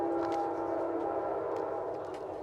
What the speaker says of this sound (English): the trains are going by here in Northfield.